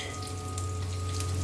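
Garlic frying in a pan, a continuous sizzle under a steady low hum, with no speech over it.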